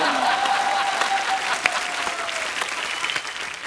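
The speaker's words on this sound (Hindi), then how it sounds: "तालियां जोरदार होनी चाहिए" A studio audience at a Hindi comedy talk show gives dense, sustained applause, a loud wash of clapping that continues throughout, with a faint voice underneath.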